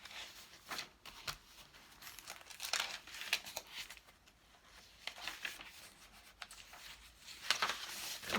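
Sheets of coffee-dyed paper printed with vintage French script crinkle and rustle as they are handled up close, soft intermittent crumpling and rubbing with brief louder flicks, fairly quiet.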